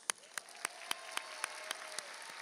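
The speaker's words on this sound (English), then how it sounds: "Let's give them a round of applause." Scattered hand claps from a graduation ceremony audience sound in a hall, a sparse and fairly faint patter with a steady rhythm of single claps standing out over a soft wash of applause.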